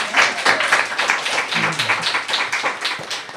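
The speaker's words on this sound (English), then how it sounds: "We can clap for her even though she's not here." Applause from an audience at a poetry reading event, a dense run of claps continuing steadily for a few seconds with some voices mixed in.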